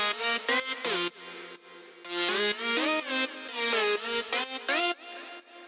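Layered Serum synth sounds with effects switched on play a bright gliding melodic lead with pitch bends, rapid choppy notes over a continuous wash, loud and up front without speech.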